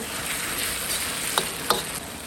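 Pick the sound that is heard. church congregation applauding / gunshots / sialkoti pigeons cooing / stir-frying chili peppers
stir-frying chili peppers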